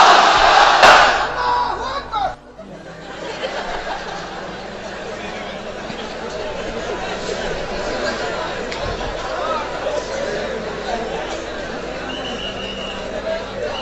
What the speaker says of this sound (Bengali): সবাই মিলে 3টা পড়েন, লিল্লাহে তাকবীর।